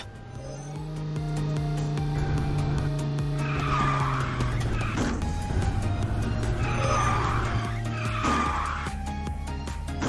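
Kart drifting and skidding on the Henesys park track in KartRider: steady engine drone with two long tire-squeal skids that rise and fade, continuous and fairly loud throughout.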